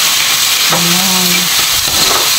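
Ground meat sautéing in a pan, a steady close sizzle and hiss with a brief tonal scrape or squeak partway through, no talking.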